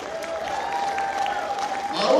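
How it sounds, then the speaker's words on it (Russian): At an award ceremony, an audience claps steadily for the winners, moderately loud and building slightly toward the end. "Ваши аплодисменты."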